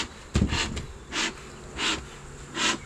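Honey bees humming around an open hive during an inspection, a steady buzzing that swells in several loud, close waves over a low background hum.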